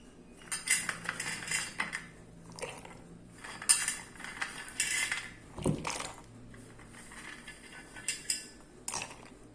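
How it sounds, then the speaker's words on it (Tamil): Nuts are scooped with a spoon into a steel mixer grinder jar, giving a series of clinking, scraping metallic taps and rattles in irregular bursts, close and fairly loud, with no talk. "எல்லாமே மிக்சி ஜாரில் அள்ளி போட்டேன் பாருங்கள்"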